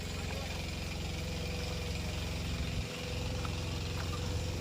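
A water pump engine on a farm in Konkan drones steadily and continuously nearby with a low rumbling hum, briefly dipping once before carrying on.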